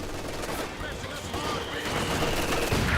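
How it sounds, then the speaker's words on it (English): Dense enemy gunfire and rifle volleys in the WWII strategy game Company of Heroes 2, a steady crackling fusillade that grows slightly louder toward the end, with voices mixed in. "Enemy fire!"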